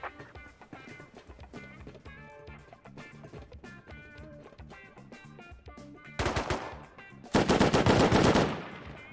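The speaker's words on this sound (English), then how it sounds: "We're trying to use their gunfire as..." Loud video game gunfire bursts out, heavy automatic fire in two blasts near the end, over a busy game soundtrack with music.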